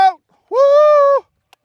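Goats on a farm give a single drawn-out bleat of about seven-tenths of a second, loud and close, followed by a short, faint tail.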